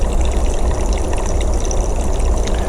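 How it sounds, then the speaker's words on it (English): Electrolyte solution pouring into cups, a steady close splashing and trickling stream with a low background rumble, no voices. "we're going to pour each one in these cups"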